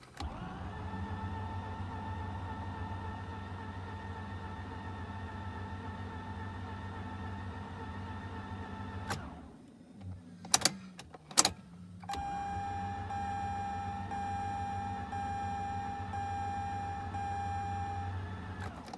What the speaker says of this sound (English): It's like the starter is not spinning fast enough.